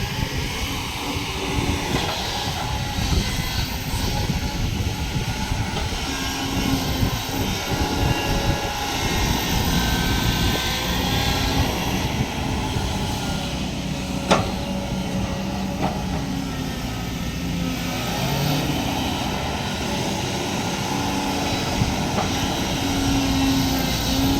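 A Kobelco SK200-10 excavator digging out an old pond runs with a steady, loud diesel drone and hydraulic whine throughout, with occasional clanks and scraping as the machine works nearby.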